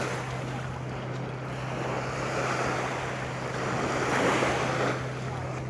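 Waves wash onto a beach in a steady, rushing surf with wind noise across the microphone, swelling slightly in the middle and toward the end, with no voices.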